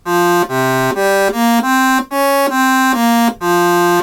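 Saw wave synth run through the Kilohearts Convolver plugin, playing a sustained, buzzy, harmonically rich melodic line of connected notes stepping up and down, loud and alone.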